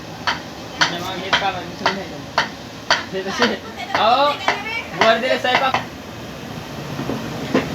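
A slotted ladle is tapped repeatedly to drop boondi batter into hot oil for laddu, making crisp metallic knocks in a steady rhythm, close by, while a voice talks over them.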